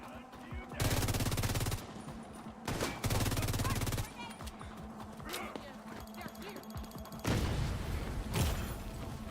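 Sustained bursts of rapid automatic gunfire in a shooter game, loud and close, with a horse's hooves clattering in the lulls between bursts and people talking at times.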